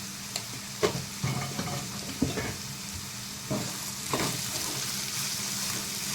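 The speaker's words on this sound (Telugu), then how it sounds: "ఇప్పుడు ఒక 2 నిమిషాలు అయితే మూత పెట్టుకొని బీరకాయని కొంచెం మంచిగా మగ్గబెడతాం" Sliced ridge gourd with salt cooking in a lidded pan for an egg curry, a soft continuous sizzle with several sharper clinks and stirring knocks scattered throughout, no voices.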